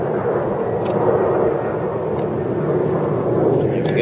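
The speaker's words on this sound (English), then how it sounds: "What's the deal with all these planes?" Airplanes fly overhead with a steady, loud, broad engine roar that lasts throughout and never fades.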